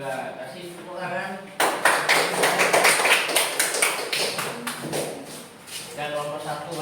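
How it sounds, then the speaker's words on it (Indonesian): Classroom applause from students during a teaching practice lesson, a sudden burst of many hands clapping that lasts about four seconds before fading, with a voice talking before and after. "Kasih tepuk tangan."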